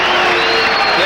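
Dense, sustained applause and cheering from a boxing crowd at the Sydney Entertainment Centre after a fight, with a commentator's voice over it.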